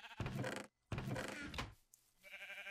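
Sheep bleat twice in Minecraft, two long close bleats separated by a short gap, then a fainter third sound, with no talking.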